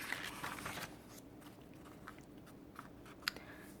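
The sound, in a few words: fairy chewing bubblegum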